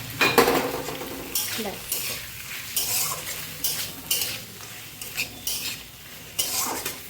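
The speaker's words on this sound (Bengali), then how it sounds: "নাড়াচাড়া করে নামিয়ে নিলে আমার পাস্তা ডান" Pasta tossed in a frying pan with Maggi masala mixed in water, a spatula scraping and clinking against the metal in repeated bursts over a soft sizzle.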